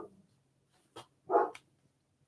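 Young dog with a hurt paw giving a few faint, short barks and yips at a distance, separated by quiet gaps, with no talking.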